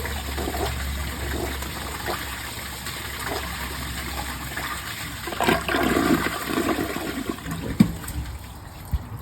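A Kohler Highline Class 5 toilet flushes with a shirt in the bowl, a steady rushing gush of water that swells and gurgles midway before draining off with a few late clunks, close and continuous throughout.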